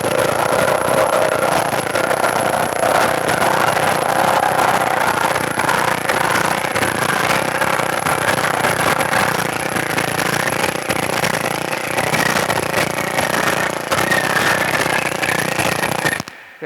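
An air-powered hammer works oiled sheet metal in a rapid, continuous pounding rattle, loud and close. The hammering holds steady for about sixteen seconds and then stops abruptly.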